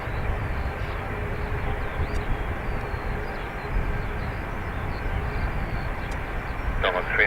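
An airliner takes off at Dublin Airport, a loud, steady engine roar that holds throughout, with faint radio chatter beneath it.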